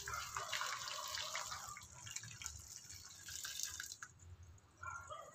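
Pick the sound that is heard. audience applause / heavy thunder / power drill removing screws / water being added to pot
water being added to pot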